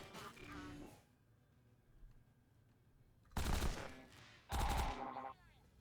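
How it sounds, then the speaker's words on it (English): An auto rifle fires in the video game Sword of the Stars The Pit in two loud, short bursts of rapid shots. Quieter game tones sit between the bursts. "we can shoot him with our auto rifle"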